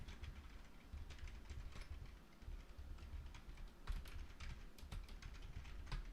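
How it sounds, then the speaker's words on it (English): Keys clatter on a computer keyboard in a quick, uneven patter of soft clicks, close and fairly quiet over a low steady room hum, with no one speaking. "You hear me typing."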